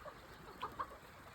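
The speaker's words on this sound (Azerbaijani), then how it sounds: "Toyuqlar düşüb Qasımın dalınca baxır." A few soft, brief clucks from chickens at a mountain village, two short calls close together over faint outdoor background, no talking.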